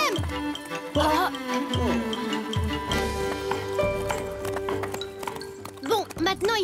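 Cartoon horses' hooves clip-clop in a steady, loud rhythm under a bed of music while characters talk over them.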